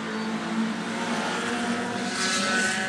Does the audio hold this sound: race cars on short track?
yes